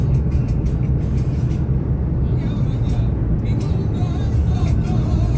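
Steady low road rumble inside a moving car with the air conditioning running, a continuous dense drone filling the whole stretch, with people talking over it throughout.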